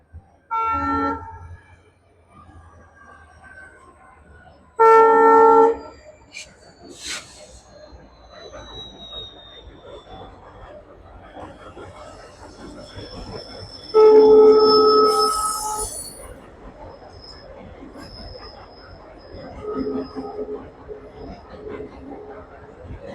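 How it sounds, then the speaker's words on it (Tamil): A train rumbles steadily crossing the Pamban bridge as two loud horn blasts sound several seconds apart, with fainter whistles and talking in between. "ஃபுல்லாக ட்ரெயின் கிராஸ் ஆகட்டும்"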